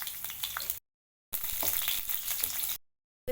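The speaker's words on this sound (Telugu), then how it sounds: "ఆవాలు ఇలా చిటపటలాడుతున్నప్పుడు ఇందులోనే ఒక 1/2 స్పూన్ జీలకర్ర వేసుకోవాలి" Mustard seeds, cumin and halved garlic cloves sputter and crackle in hot oil in two close bursts of steady frying hiss, with short silent gaps between them.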